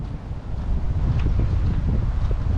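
Strong seaside wind in Kuwait roars and buffets steadily against the microphone, with a low rumbling gusty noise throughout.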